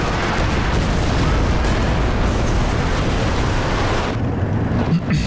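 Artillery shells from B-4 howitzers in the video game Company of Heroes 2 land in a steady rumbling barrage, a loud, dense roar of overlapping blasts that carries on without pause, with no talking.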